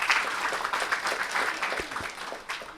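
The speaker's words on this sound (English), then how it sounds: "Give him a round of applause again" Audience applause for a speaker at an Africa Liberation Day commemoration, sustained clapping from a crowd with a few sharper individual claps standing out near the end.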